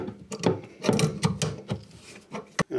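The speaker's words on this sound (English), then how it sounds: "I'm going to take the adjustable, and I'm going to undo" Adjustable spanner undoing the nut on a tap flexi hose, heard as close, irregular metallic clicks, knocks and scraping of tool on fitting in short bursts with brief quiet gaps.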